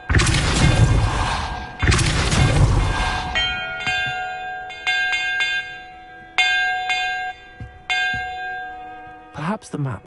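Bells in a Harry Potter video game ring out in a struck sequence, first two loud clangs, then a series of lighter chimes with long ringing tails, close and clear.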